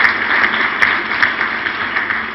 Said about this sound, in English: give him a wonderful round of applause for this show of sportsmanship